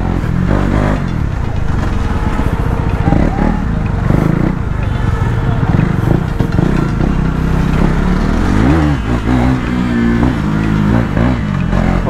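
A KTM Duke 390 BS6 motorcycle rides through city streets, its engine droning steadily up close with rising revs and wind rumble, while a rider's voice breaks in intermittently.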